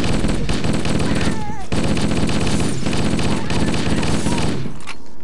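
Sustained automatic assault rifle fire in Halo: Combat Evolved, loud and close, rattling in rapid continuous bursts with brief pauses, layered with other game sounds and a voice talking over it.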